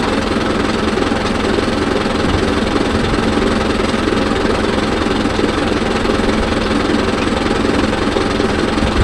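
Mahindra Yuvo Tech Plus 585 4WD diesel tractor engine idling, a loud, steady, close rumbling drone with constant vibration and no change throughout, no voices.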